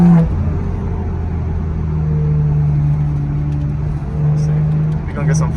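A straight-piped, BM3-tuned BMW M2 engine drones loudly from inside the car during a night drive, a deep sustained rumble with rising and falling revs.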